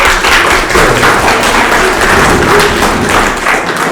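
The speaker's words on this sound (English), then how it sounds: "Could you give them a round of applause?" A library audience applauds after a speaker asks for a round of applause for the host, Laramie County Library, at a symphony lunch-and-learn event; loud, steady dense clapping fills the whole stretch.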